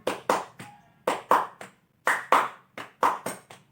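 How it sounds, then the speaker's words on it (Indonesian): Rhythmic hand clapping in a classroom clapping game called tepuk kecerdasan, led by a teacher: crisp, close claps in short patterned groups separated by brief pauses. "Nah, itu namanya tepuk kecerdasan"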